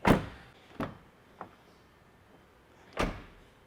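A Toyota Tacoma truck door with puddle lights opens with a sharp close latch click, then a few lighter clunks and a final solid thunk in a quiet setting.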